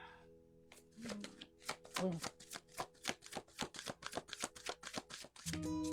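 Tarot cards are shuffled by hand in a quick run of crisp, evenly spaced slaps and riffles, about four per second. The shuffling is close and fairly quiet, with a brief lull before and after.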